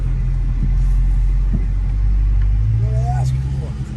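A 2023 Last Call Scat Pack driving through traffic, its engine a loud, steady low rumble close by with slight variation in revs, while a voice talks over it.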